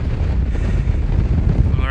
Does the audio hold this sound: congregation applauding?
no